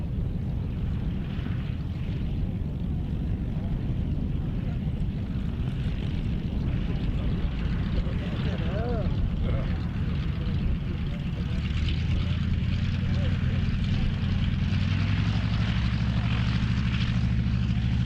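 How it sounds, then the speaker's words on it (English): A Saab B-17A propeller aircraft of the Swedish Air Force Historic Flight flies an airshow display routine, its engine drone loud and sustained with shifting pitch throughout, a commentator's voice faintly present over it. "The Saab B-17A of the Swedish Air Force Historic Flight, an excellent routine from its pilot, Ola Norén."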